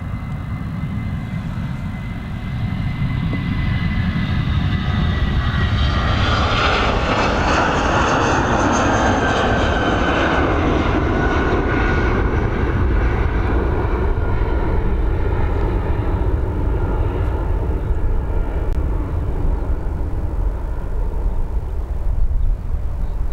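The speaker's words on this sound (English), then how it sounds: "now on departure along runway 28R here" An airliner takes off from runway 28R, the north runway at Dublin Airport; its jet engines swell into a loud, sustained roar that peaks midway and holds steady as it climbs away, with no talk.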